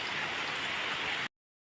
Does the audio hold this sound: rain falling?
yes